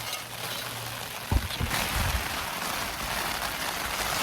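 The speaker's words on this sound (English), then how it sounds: "that rain's coming early." Rain patters on a tent while wild camping in heavy rain in the Lake District, a close, dense hiss with a few dull thumps and rustles of fabric handling near the start.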